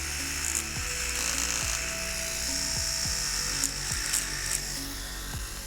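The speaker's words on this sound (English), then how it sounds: "We also have a nose hair trimmer." Electric nose hair trimmer from a Freedom Grooming kit running continuously with a steady high-pitched motor whine, close and fairly loud, with brief clicks and bumps as it is handled.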